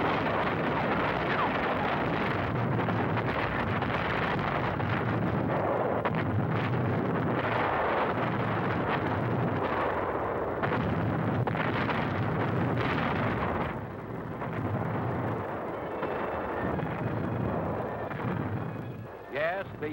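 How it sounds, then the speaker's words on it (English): Big naval guns bombard shore installations on Rendova in 1944, a dense, continuous roar of blasts and rumbling that stays loud throughout, heard under a narrator's voice on an old wartime soundtrack. "Rendova shore installations come within range of our big naval guns."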